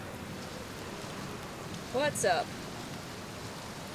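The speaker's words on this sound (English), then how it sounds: "It's a good thing I never get bored of rain," Steady rain in the video game Outer Wilds, an even, close hiss running throughout, with a brief spoken line breaking over it midway.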